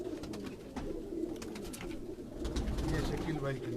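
Pigeons, including white birds, coo softly on a Quetta rooftop loft, low murmuring calls overlapping continuously while people chat nearby.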